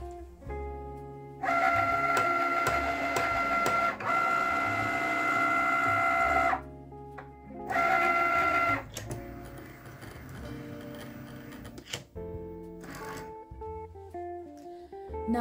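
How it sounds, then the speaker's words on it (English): A Cricut cutting machine scores a holiday card, with loud mechanical whirring carriage runs in bursts separated by pauses, plus ticking and clicking motor movements, close up and without talk. "I'm going to load this mat into the Cricut. And I'm going to press go."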